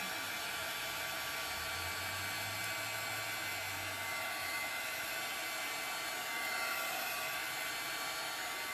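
A heat tool blows a steady, loud rushing hiss while drying chalk paste on a craft stencil, running continuously and close without pause or talking.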